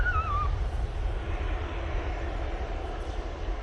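A TUI airliner passes overhead at an airport, its engine roar a steady, loud broadband rumble sustained throughout, with a faint high whine fading early on.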